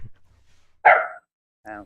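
A pet dog indoors lets out two separate barks close by, a loud one followed by a shorter, softer one, with a quiet gap between them.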